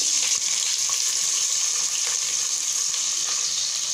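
Chopped onions fry in hot oil on a stove, a loud steady sizzle with a hissing, crackling texture that holds even throughout, no voices.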